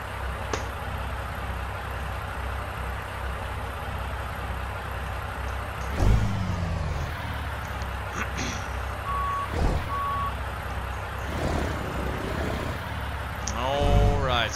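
A Peterbilt 389 in American Truck Simulator idles with a low engine drone while a steady electronic reversing beep repeats, and someone talks over it at moderate level.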